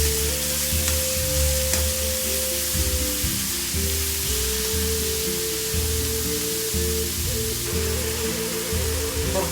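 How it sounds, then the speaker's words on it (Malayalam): Mustard seeds and chana dal fry in hot oil in a close, loud, steady sizzle that hisses without pause, with faint crackles over a low background hum and no voices. "കടുകിട്ടു, കടലപ്പരിപ്പിട്ടു."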